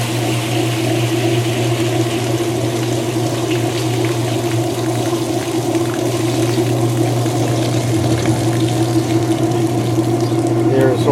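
A Kenmore 80 Series washing machine drains with a steady, droning pump hum and a continuous rush of water, loud and close throughout.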